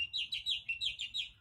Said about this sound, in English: That's an Indian myna.